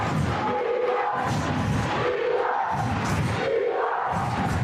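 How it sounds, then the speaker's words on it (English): A crowd at a high school boys basketball playoff game roaring loudly and continuously, with surging waves of cheering and chanting voices filling the gym and no quiet gaps. "This crowd, it's going nuts right now."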